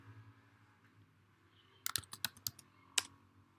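A password is typed on a computer keyboard in a quiet room, a short burst of about six crisp key clicks at a quick, uneven pace, then a pause and one last firmer click.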